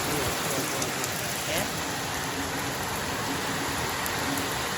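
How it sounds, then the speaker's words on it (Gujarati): Heavy rain at night with wind pours down in a dense, continuous hiss, loud and close, with no pauses. "આવો વરસાદ ચાલુ થયો છે રાત્રે 12 ને પવન બી છે પાછો"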